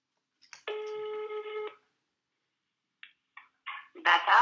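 A single electronic telephone ring tone sounds for about a second, followed by silence and a few short clicks and beeps.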